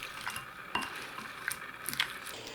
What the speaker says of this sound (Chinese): 大虾和鱿鱼里面放入1/2茶匙的盐和1汤匙的料酒，搅拌均匀